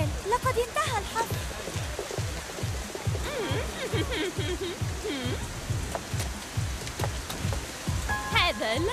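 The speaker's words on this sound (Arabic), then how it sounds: "لا، إنها تمطر" Steady rain falling outdoors, a dense hiss of drops with a rhythmic low thumping underneath and scattered tonal sounds over it.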